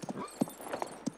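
A horse's hooves clip-clop in a few uneven, moderately close strikes, with a faint possible whinny mixed in, and no talking.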